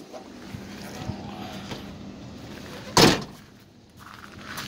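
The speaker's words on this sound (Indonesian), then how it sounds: "Dan untuk pintu sliding ya, emang masih manual sih." Manual sliding door on a 2001 Kia Carnival GS 2.9 diesel, operated by hand: one sharp, loud thud or slam rising out of a quiet interior background, with faint handling noises before and after it.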